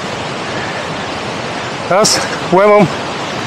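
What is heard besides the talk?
rushing river near the Boka waterfall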